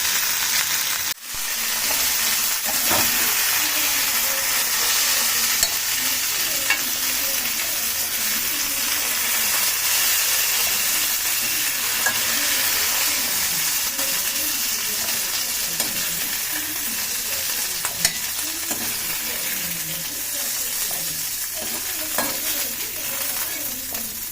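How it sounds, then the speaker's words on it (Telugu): Green chillies fry in hot oil in a pan for a Telugu roti chutney, a constant close hiss and crackle with occasional stirring scrapes and no voices. "ఇప్పుడు మిరపకాయలు వేగినాయండి మగ్గిపోయింది"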